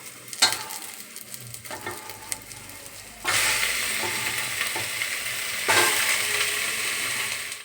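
Chicken pieces for chilly chicken hit hot oil in a pan, setting off a loud, steady sizzle with bursts of stirring and scraping, close up and without talk.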